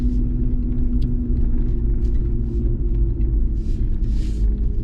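A car rolls slowly in a circle around a large empty parking lot at a state park, its engine a steady low rumble with road noise throughout, close and unbroken, no talk over it.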